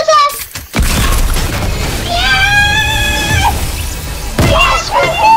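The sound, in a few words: grenade explosion in the video game Fortnite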